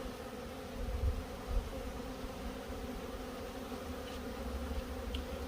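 A honey bee colony hums during a fall hive check, a constant low droning buzz from many bees close by, with a couple of brief louder swells near the start.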